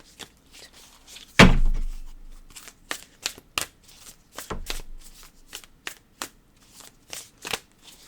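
A deck of Ancient Stones Oracle cards is shuffled by hand up close: crisp riffles and sharp slaps of cards knocked together, with a heavy thump early on and irregular clicks throughout.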